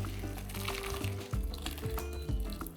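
Boiling water pours over cauliflower florets in a pot, a close, faint splashing and gurgling stream that rises and dips in short surges.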